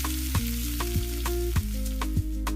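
Chicken and mashed potato filling is stirred in a pan with black pepper, turmeric, curry powder and sriracha. A spoon scrapes the pan at a steady rhythm, with four or five clear strokes over a soft continuous sizzle, close and moderately loud.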